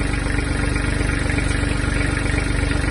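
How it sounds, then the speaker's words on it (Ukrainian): The small diesel engine of a Japanese Kubota GB-15 mini tractor idles steadily and close by, warmed up, with a fast, even chugging pulse running throughout and no voices. "Двигун дуже гарно прогрівся."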